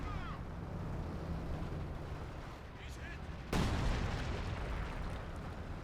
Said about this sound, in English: now the Lef 18 is given some orders. Barrage incoming.